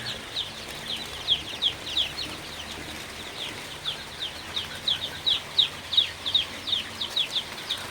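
Two-day-old Sonali super hybrid chicks in a brooder chirp constantly, a steady run of high, thin peeps from many birds at once, with no talking over them.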